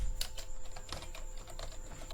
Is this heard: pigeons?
no